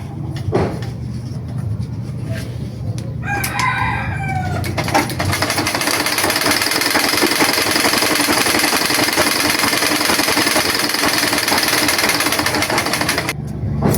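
An ordinary sewing machine runs three lines of stitching, reversing at each end to lock them, with a steady, loud mechanical whir that carries on without pause after a rooster crows nearby.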